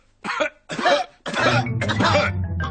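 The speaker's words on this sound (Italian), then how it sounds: "tutti gli adulti hanno preso la tosse da Pedro." A run of harsh cartoon coughs, four or five in quick succession, loud and close, the last ones breaking into a rough hacking sound.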